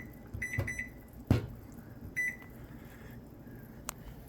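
A kitchen timer being set while breakfast sausage links boil, giving several short electronic beeps in small clusters over faint kitchen background noise.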